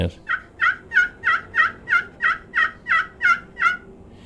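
Glass surface of a handmade turkey call working hen yelps, a loud, close run of about eleven evenly spaced, clear notes in a steady rhythm with no talk, imitating a turkey hen.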